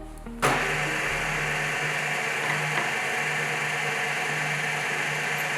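A milling machine runs steadily while machining a Porsche 993 connecting rod bushing, giving a continuous loud mechanical whir after a sharp start with no talking.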